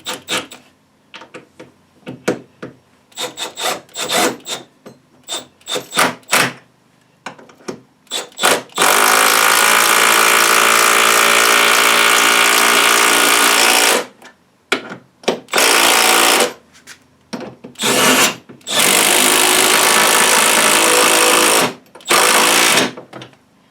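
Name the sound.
driving leg screws into bench vise base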